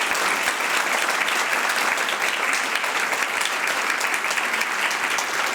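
A conference audience claps loudly and continuously, dense even applause from many hands held at full strength throughout with no voices over it.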